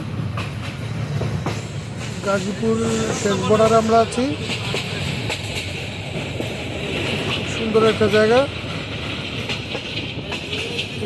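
Steady rumble of a moving passenger train on the line to Mymensingh, heard from inside a carriage, with continuous rolling noise throughout and people talking over it at times.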